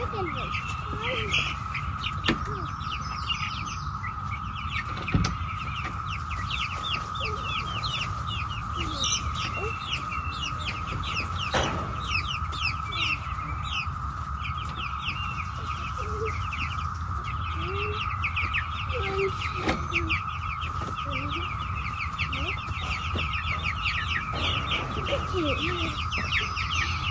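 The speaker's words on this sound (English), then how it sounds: "Chickens, come back here." Backyard chickens cluck and squawk in short, scattered bursts throughout, near and fairly loud over a steady background hum, with people talking and calling at times.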